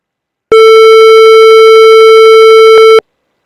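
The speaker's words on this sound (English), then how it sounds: "the buzzer will start ringing and the screen will display time up" A microwave oven's timer buzzer sounds a single loud electronic tone steadily for about two and a half seconds, then cuts off.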